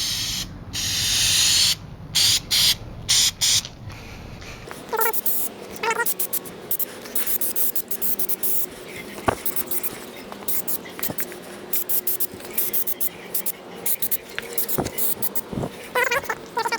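Hissing bursts of spray paint come in short spurts, with can-shaking rattles and soft whispering-like noises between them, close to the listener, while painting a BMX bike frame.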